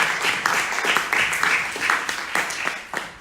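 An audience at an academic lecture on national development planning claps for a speaker. The applause is dense and steady and fades as it ends.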